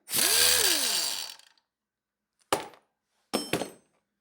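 A brushless cordless impact gun, the Uaoaii IW800, whirs briefly as it tightens, followed by a couple of sharp metallic clanks, close and fairly quiet with silence between sounds.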